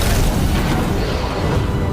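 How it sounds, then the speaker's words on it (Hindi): A loud, roaring explosion in a laboratory fills the whole stretch: a dense, sustained blast of rumbling noise with no pause or quiet. "प्रयोगशाला में विस्फोट हो गया।"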